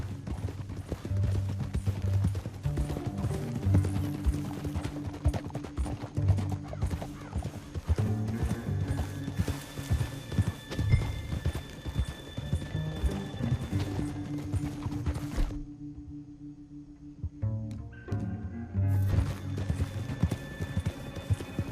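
Horse hooves clip-clop steadily in Red Dead Redemption 2, a riding gait over a continuous game music bed, with a brief near-silent drop before the sound resumes.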